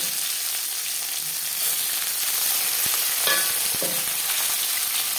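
Chopped onion frying in mutton fat for a yellow pea curry gives a steady hiss and crackle, with a few brief stirring clatters of a utensil against the pan.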